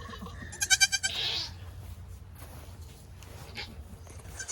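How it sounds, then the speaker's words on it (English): Baby goats on a goat farm bleat nearby in a quick series of wavering cries, followed by quieter farmyard ambience with faint shuffling and no talking. "more baby goats."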